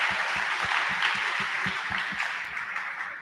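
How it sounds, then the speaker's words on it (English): A student audience at a Model United Nations conference gives applause, a bright, sustained wash of hand claps alongside a steady low thumping beat, with the clapping easing off toward the end. "Guys, have a huge round of applause for them."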